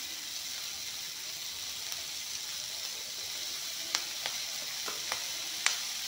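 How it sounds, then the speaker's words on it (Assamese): Peas frying in a pan with onion, chili, garlic and coriander leaves, giving a soft, constant sizzle with occasional faint clicks and stirring taps. "মটৰখিনি ধুনীয়াকৈ পিঁয়াজ, জলকীয়া, নহৰু, মান ধনিয়াৰ পাত দি ধুনীয়াকৈ ভাজি ল'লোঁ"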